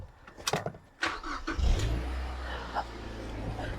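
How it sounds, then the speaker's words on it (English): A Mazda MX-5 NC engine cranks with a short whir, catches and settles into a steady idle close by, after a few sharp clicks and clunks. "I'm gonna jump in quick, start the car."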